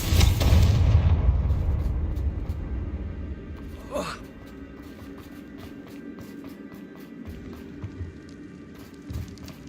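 A Confringo blasting spell going off in Hogwarts Legacy: a loud, booming explosion at the start that fades into a long rumbling tail, followed by scattered small crackles and clicks of game sounds.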